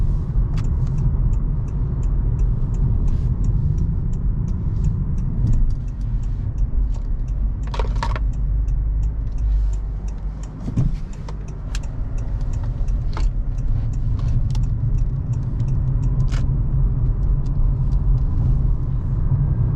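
A 2018 Honda Clarity Plug-in Hybrid Touring cruises on a charged battery, its cabin filled with a steady low road rumble and hum, with a few faint clicks and ticks along the way.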